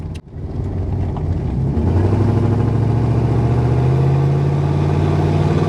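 A 1987 Chevrolet Suburban 4x4 engine revs steadily on a test drive, its loud continuous drone rising in pitch through downshifts and upshifts with no one talking.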